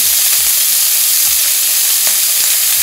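Seasoned food sizzles steadily in a hot pan as it is shaken around, with a few low thumps from the pan's movement under the constant frying hiss.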